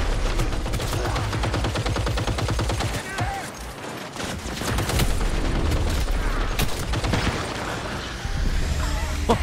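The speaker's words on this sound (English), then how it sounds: "Oh, that guy's got a shotgun." Rapid gunfire from a Cyberpunk 2077 firefight, with an enemy wielding a shotgun: dense, continuous bursts of shots and mechanical clatter crowd the whole stretch, loud and close, with brief lulls between barrages.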